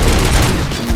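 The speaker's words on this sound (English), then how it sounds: "Gunshots? What's going on?" Gunfire in the Robocop video game crackles as a dense, loud, rapid burst of shots filling the whole brief moment without any talk.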